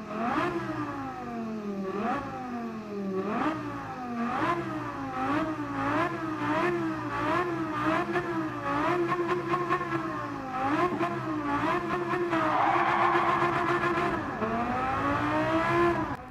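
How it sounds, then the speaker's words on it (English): Lamborghini Gallardo V10 engine in the Gran Turismo 7 racing game, revving hard through repeated rising sweeps and gear changes, loud and close with a steady whine, brief tire squeal and no talking. "hear the glorious V10 of the Lamborghini Gallardo"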